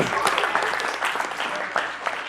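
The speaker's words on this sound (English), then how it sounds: "Give him another hand clap" Congregation clapping for a brother at a church service, a dense, loud round of applause filling the room with a few voices mixed in.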